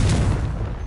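Confringo fire spell cast during a fight in Hogwarts Legacy, a brief dense burst of explosive rumbling crackle, loud and close, lasting under a second.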